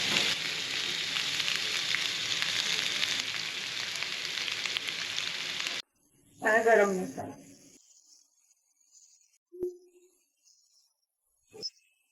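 Potatoes spread into hot oil in a pan sizzle loudly and steadily, then stop abruptly, followed by a brief clatter and a few faint knocks in quiet.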